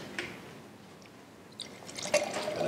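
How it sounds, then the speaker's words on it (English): Primitivo red wine is poured into a glass, a faint liquid trickle and splash rising near the end against quiet room noise. "Pour the Primitivo back in."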